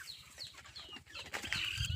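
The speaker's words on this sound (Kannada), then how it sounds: "ನಮ್ಮ ಕೋಳಿಗಳು ಆಚೆ ಬಂದುಬಿಡ್ತವೆ ಫಾರ್ಮಿಂದ" Chickens cluck softly on a small farm that also keeps cows, with several overlapping calls that grow a little louder near the end and no speech.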